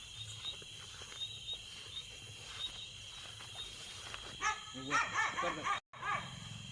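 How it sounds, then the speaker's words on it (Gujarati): A dog barks in a burst of several quick, yelping barks late in the clip, after quieter background noise, with a brief dropout just after the barking. "આ કૂતરું વાળું શું ભસ ભસ કરે"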